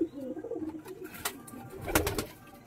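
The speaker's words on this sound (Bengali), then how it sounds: "এটা হচ্ছে মাদি পায়রা," Pigeons cooing inside a loft, soft close murmuring coos repeating irregularly, with a few sharp clicks and rustles from birds moving around.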